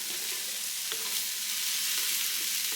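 Pre-packaged coleslaw mix cooks in a pan over low-medium heat, giving a steady, even sizzle with faint stirring, no talking.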